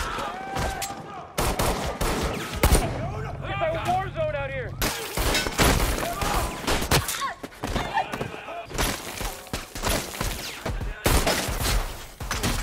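Gunfire rings out in an action-film shootout at a gang hideout: bursts of rapid, sharp shots broken by brief pauses, mixed with thuds and a dramatic score, with a voice heard in the quieter moments.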